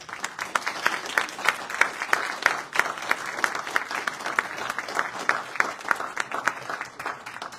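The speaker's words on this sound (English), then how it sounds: "So I'd ask for a round of applause for both of these guys." Steady applause from a city council meeting audience, many hands clapping in a dense, even patter that holds throughout at moderate loudness.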